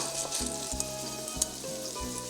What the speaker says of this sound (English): our sausage is cooking beautifully